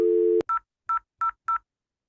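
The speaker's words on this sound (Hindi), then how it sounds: "इधर से भी डायल कर सकते हो" Telephone keypad dialing during a telephony service setup: a steady dial tone cuts off, then four short, evenly spaced DTMF key beeps ring out clearly with no talking.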